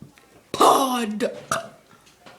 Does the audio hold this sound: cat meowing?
no